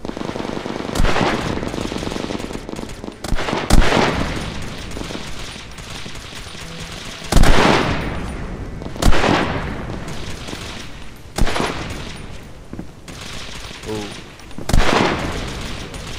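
Gunfire in the video game SOCOM H-Hour: loud bursts of automatic weapons and single shots cracking at irregular intervals over a steady battle din, with players talking underneath.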